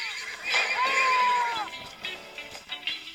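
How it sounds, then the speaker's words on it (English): Horses whinny nearby in a single drawn-out, rising and falling call, with vehicle noise and faint voices in the background. "I feel so bad for these horses."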